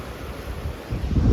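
Sea waves wash along the coast as a short, steady rush, blended with wind buffeting the microphone. The wash swells louder toward the end.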